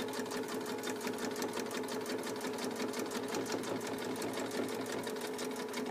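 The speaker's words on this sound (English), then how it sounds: "I'm going to sew all the way up" A sewing machine stitches a pocket onto fabric, running steadily without a break in a fast, even mechanical hum and rattle, close and clear.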